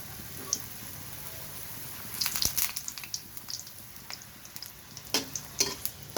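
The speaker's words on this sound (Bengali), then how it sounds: "এখন দেখেন আমি ওই তেলেই আবার লুচিটা বানিয়ে নেবো" Luchi, Bengali puffed bread, frying in a small kadai of hot oil, giving a steady close sizzle with bursts of louder crackling and popping as the dough puffs.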